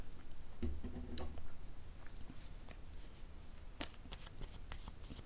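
Tarot cards being shuffled in a steady run of soft riffling, snapping card noises close by, with no talking over them.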